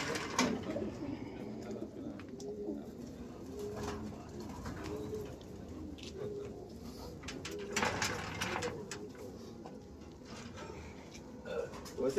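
Pigeons cooing in a Lucknow pigeon-flying match with several flocks, a steady low murmur of overlapping coos mixed with other bird calls and background voices.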